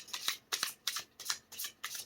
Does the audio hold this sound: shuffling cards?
yes